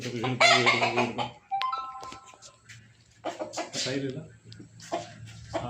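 A native country rooster of an aggressive fighting breed clucks nearby in short bursts while someone talks over and between the calls.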